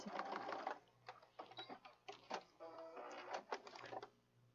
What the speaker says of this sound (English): I'm going to get a scrap of paper so I can see how it's stitching out.